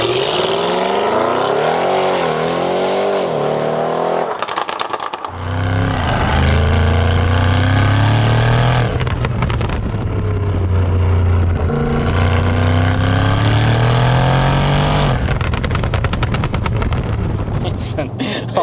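Hard acceleration from an 830bhp Audi C8 RS6, a loud, continuous engine roar with rising and falling gear-change sweeps, close and dominant throughout.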